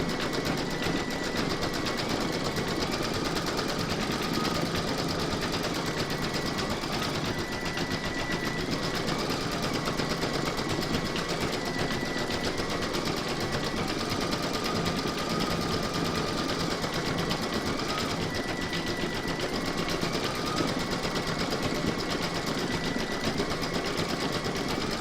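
A close, steady embroidery machine hums and buzzes continuously as it stitches quilting on an in-the-hoop baby scan photo frame, with a faint recurring whine shifting in pitch and no talk.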